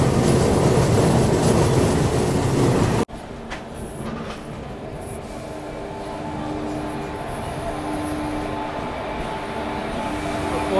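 Mandovi Express passenger train on the Mumbai to Goa route, heard from inside as a loud roaring rush that abruptly drops to a quieter steady rumble with faint rail clatter and tonal hum.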